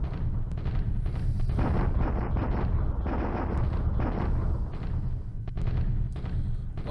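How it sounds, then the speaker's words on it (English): Dense, continuous artillery barrage in a World War II strategy game, with rapid overlapping booms and blasts rolling without pause at a steady loud level throughout. "A lot of artillery here."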